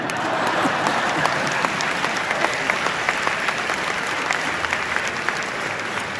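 A crowd applauds during New York City Mayor Eric Adams' address, sustained close clapping with a few sharper individual claps standing out, continuous and fairly loud from start to finish.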